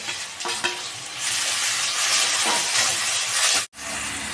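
Tomato and green chillies frying in a pan with salt, a loud continuous sizzle with scraping stirs, cut off by a brief gap near the end before the hiss resumes.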